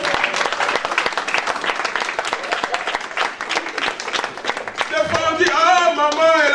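Sustained applause and cheering from an audience at a French-language talk, steady and dense throughout, with a singing or chanting voice rising over it toward the end.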